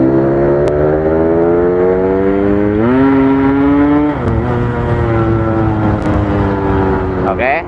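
Yamaha RX King motorcycle engine with a fault, idling loud and close with a steady harmonic drone, then revving up briefly and dropping back to idle, with a final blip at the end.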